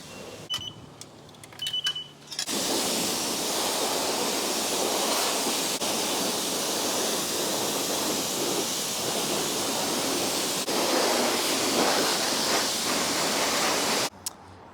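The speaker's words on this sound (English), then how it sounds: "We're gonna go ahead, pressure wash it off, and then complete the last step." A pressure washer sprays a Traxxas X-Maxx RC car in a steady, loud hiss of water that runs unbroken for about twelve seconds, preceded by a few faint clicks and beeps.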